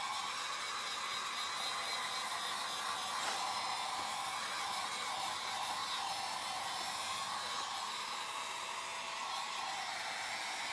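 Hair dryer blowing steadily to dry craft paint, a constant loud broadband whoosh with no pauses throughout.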